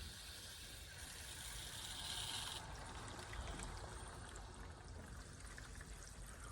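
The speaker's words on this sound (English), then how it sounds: "Can hear the water flowing through it." Water flows into a three-stage dechlorinator filter for a koi pond as it fills. A continuous rushing hiss is louder for the first couple of seconds, then settles into a steadier, softer flow.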